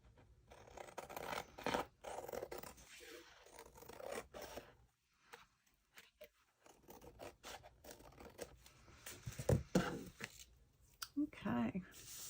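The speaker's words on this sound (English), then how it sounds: "And I'm just going to use my scissors to do that." Scissors trim paper for a handmade boho folio in close, quiet snips and scraping rubs, with brief pauses between cuts and a soft crinkle near the end.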